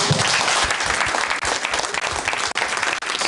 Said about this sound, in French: Je voudrais que vous puissiez vous applaudir vous-même